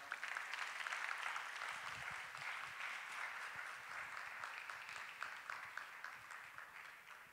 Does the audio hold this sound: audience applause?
yes